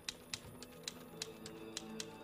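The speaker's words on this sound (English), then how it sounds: "Alex is convinced that the things Zack is typing are coming true" Keys clacking on a keyboard or typewriter in a TV episode, about eight sharp irregular taps over a steady background hum.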